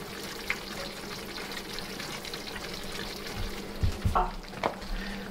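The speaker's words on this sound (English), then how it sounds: "Look at those bubbling." Cheesy scalloped potatoes in a cheese sauce bubble and sizzle softly right out of the oven with the foil off, a steady close crackle with a few louder pops toward the end.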